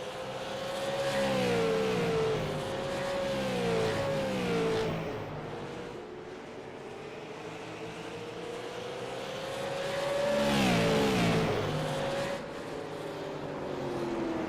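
Super Late Model Tour race cars lap North Wilkesboro Speedway, loud engines rising and falling as they roar past in sweeping waves, with no talk over them.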